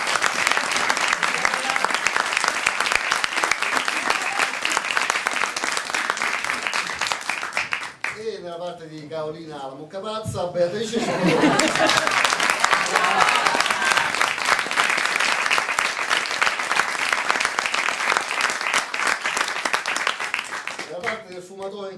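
Theatre audience applause, a loud sustained crowd of clapping hands that breaks off for a voice announcing cast names in Italian, then swells again, with another short break near the end.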